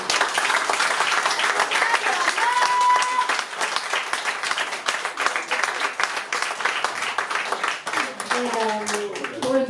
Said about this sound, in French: Je vous demande d'applaudir ma fille